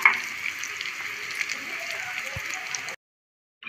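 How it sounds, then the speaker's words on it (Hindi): Chicken balls deep-frying in hot oil until golden, a steady bubbling sizzle held close for about three seconds before cutting to silence, with a faint knock partway through. "इसको पूरा गोल्डन होने तक हमें फ्राई करना है"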